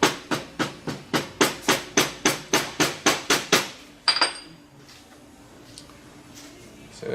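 About a dozen sharp, regular hammer taps on a sand casting mold for a ring ring out in quick succession, followed by a scraping shuffle and quiet room noise.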